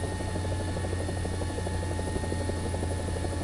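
Steady, loud helicopter rotor drone and low engine rumble in War Thunder simulator mode, holding constant throughout with no voices.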